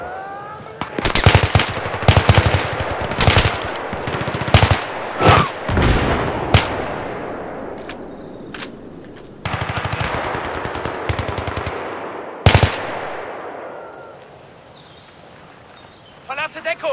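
Rapid bursts of automatic gunfire and single shots from a Battlefield 3 battle, loud and close, with a voice briefly shouting in the mix.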